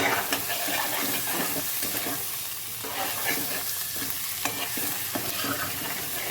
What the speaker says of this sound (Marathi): तर आता ह्याला मी 2 मिनटं परतू देणार मस्त.